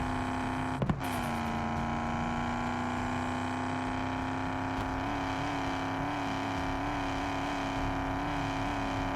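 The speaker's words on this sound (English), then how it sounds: "Just listening to that little inline six" An inline six car engine in the Drive Beyond Horizons video game drones steadily, holding a sustained hum after a brief sharp knock near the start.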